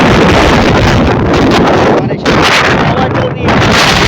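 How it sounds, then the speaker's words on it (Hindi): Strong storm-force wind roars and buffets the microphone, loud and constant with brief gusty dips, drowning out everything else. "इतनी तेज हवा"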